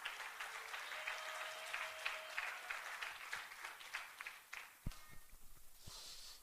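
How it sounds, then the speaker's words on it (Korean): Steady applause from a church congregation at a building's opening service, moderately distant, with scattered claps continuing and thinning out toward the end. "박수를 너무 길게 칩니다."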